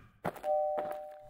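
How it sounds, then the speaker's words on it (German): A doorbell rings at a home's front door: a short knock-like onset, then a sustained two-tone chime that rings out and slowly decays, close and clear with no talk over it. "es klingelt an der Tür"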